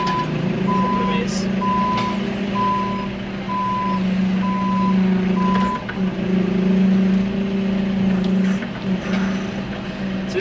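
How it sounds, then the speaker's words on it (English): A lorry delivering trees for a Chelsea Flower Show garden reverses, its regular reversing beeps sounding over a steady diesel engine rumble, with voices talking nearby. "so this is how your trees come on a lorry"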